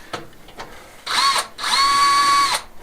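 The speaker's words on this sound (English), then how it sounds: "Get some screws in it." Cordless drill driving screws into a flue during an old finca restoration in Spain: two whining bursts, a short one then a longer steady spin, with small knocks before, nearby and loud.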